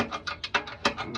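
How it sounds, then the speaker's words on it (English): A ratchet wrench clicks in quick, uneven bursts while it works on a C4 Corvette transmission, close-up and fairly loud, with about eight short ratcheting strokes in just over a second. "Ratchet wrench. Just gotta work it."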